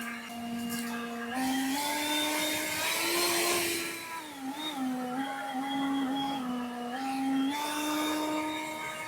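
A leaf blower running on turbo while clearing leaves and small rocks outdoors, a steady close whine that dips briefly and surges back, droning on its own without talk.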